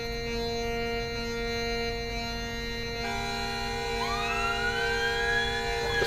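An ambulance siren in the online game APB wails loudly and steadily. Its tone rises and sweeps into a new cycle partway through, holding at close range with no talk over it.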